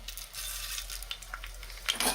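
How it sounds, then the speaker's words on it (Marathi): Mustard seeds sizzle softly in hot oil, a quiet crackling hiss with a few sharper ticks near the end. "आणि लगेच आपण फोडणीसाठी ह्याच्यामध्ये मोहरी घालूया"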